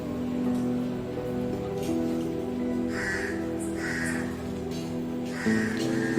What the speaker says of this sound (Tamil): நைட் நேரத்தில் இந்த ஒரு செடியில் வந்து எனக்கு காக்கா கத்துற சத்தம் கேட்டுது